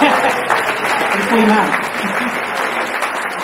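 An audience at a public meeting about 20-minute cities claps in a dense, sustained patter, with a voice talking over the applause.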